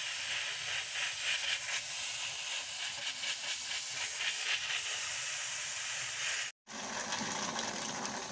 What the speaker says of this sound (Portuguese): as duas panelas de pressão no fogo, essa com grão de bico e essa com a ervilha